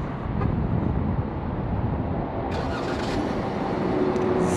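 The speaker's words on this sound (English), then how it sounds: "here's a little cold start" Dodge Charger SXT with a 3.6 liter V6 engine on a cold start, settling into a quiet, steady idle hum with a faint breathy rush.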